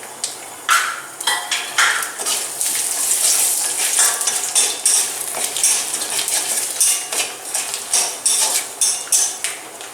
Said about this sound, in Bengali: এবার মাছ ভাজার গরম তেলে আমি দিয়ে দিলাম 2টো তেজপাতা, কালো জিরে দিলাম আর ছোটো এলাচগুলো দিয়ে দিলাম।